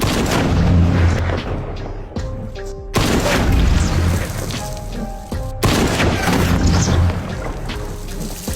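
Heavy gunfire booms in rapid bursts with loud crashes and a dense, rumbling roar behind them, like an action scene soundtrack.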